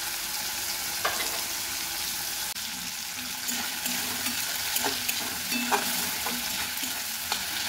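Shrimp sizzling in hot mustard oil, a steady close frying hiss with small pops and occasional stirring clicks across the whole stretch.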